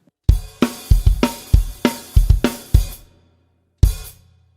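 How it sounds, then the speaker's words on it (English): A drum kit plays the last line of a song, a run of loud, close hits with crash accents ringing, then a pause and a final held crash that fades out. "So the last line could sound like this."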